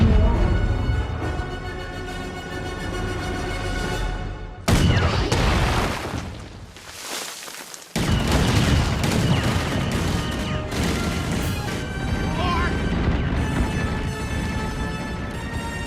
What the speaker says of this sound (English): I want every gun we have to fire on that man.